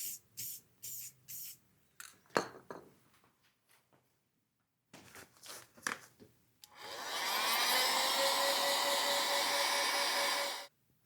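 Thin coats of paint are sprayed onto motorcycle speedometer parts: a continuous close hiss lasting about four seconds, preceded by scattered clicks and handling noises.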